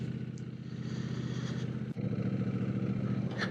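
A Triumph Bonneville Bobber motorcycle idles with a quiet, steady low exhaust thrum, its even pulsing rhythm running throughout with a brief dip midway.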